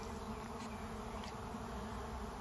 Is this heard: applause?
no